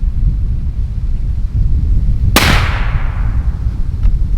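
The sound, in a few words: three gunshots through a GSL Bushman 30 cal hunting suppressor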